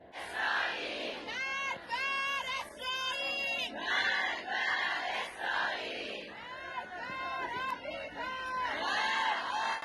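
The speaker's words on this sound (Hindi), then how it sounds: "यही वे लोग नारे लगा रहे हैं।" A large crowd chants slogans in unison at Khamenei's funeral procession, loud rhythmic shouted phrases repeating one after another with brief pauses, dense and close throughout.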